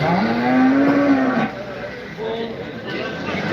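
A cow moos once, a long low call up close, followed by a fainter second moo while people chatter in the background at a livestock market in Bolu.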